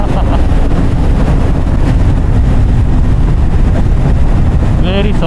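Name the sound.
Kawasaki Z900 SE motorcycle engine while riding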